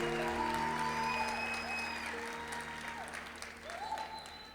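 A church congregation applauds in a large room, with steady broad clapping that slowly thins out, while sustained music plays underneath.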